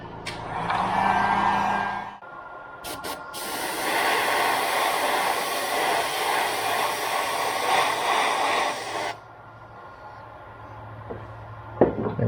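A hair dryer dries freshly airbrushed paint on a walking-bait fishing lure being repainted, running loud and steady for several seconds after a brief earlier burst, then switching off to quiet handling noises and a small clack.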